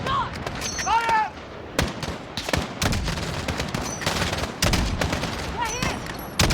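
Heavy gunfire in the video game Freedom Fighters, with rapid overlapping bursts and single shots throughout, loud and close, mixed with shouted voices and other battle noise.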